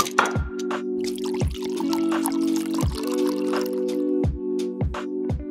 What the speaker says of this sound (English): a splash or two of wine.